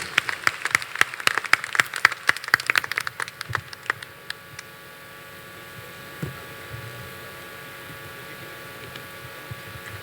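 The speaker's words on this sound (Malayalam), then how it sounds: "ഉജ്ജ്വലമായൊരു കയ്യടി പ്ലീസ്." An audience at a stage show of old Malayalam film songs gives a burst of rapid, dense clapping that fades out after about four seconds, leaving a quiet hall with faint hum.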